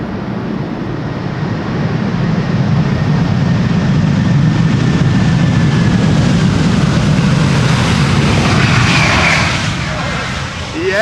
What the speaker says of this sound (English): So this is Delta Airlines flight 162 arriving from Minneapolis, Minnesota.